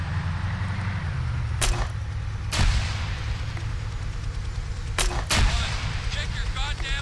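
Gunfire in the video game Arma 3: a few sharp, loud single shots spaced a second or more apart, with a closely paired burst near the end, over a steady low rumbling background.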